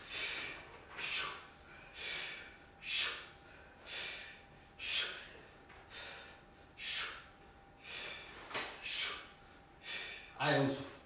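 Repeated forceful exhalations during an abdominal workout, about ten rhythmic breaths roughly a second apart, close and clear with no talking over them.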